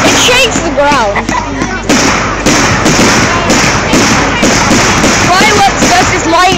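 Fireworks with Catherine wheels bursting at night, a dense run of thuds, cracks and crackling pops across the whole stretch, loud and close, with whistling rockets rising at times.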